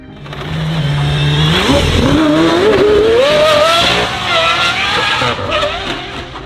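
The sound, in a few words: Aston Martin Valkyrie 6.5-liter Cosworth V12 engine car driving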